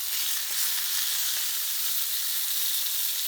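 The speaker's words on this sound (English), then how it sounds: "So let's flip that salmon." A salmon fillet sizzles in a hot pan just after being flipped, a loud, close, continuous frying hiss with no pauses.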